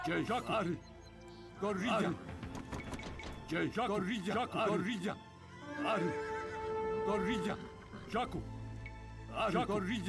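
Horses whinny and neigh several times in the Age of Empires 2 real-time strategy game, cavalry calls coming in bursts over game sounds while someone talks over them.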